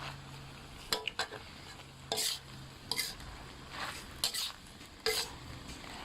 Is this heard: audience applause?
no